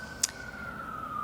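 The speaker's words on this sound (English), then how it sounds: "sorry about the sirens" A steady, faint siren tone of an emergency vehicle passing along a busy street outside, heard from indoors at a distance, with a brief sharp click near the start.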